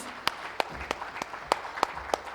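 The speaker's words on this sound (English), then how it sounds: "Please give him a huge round of applause," Sparse, separate handclaps ring out at an inauguration ceremony, about eight sharp claps at a quick, slightly uneven pace, fairly faint and close against a quiet room.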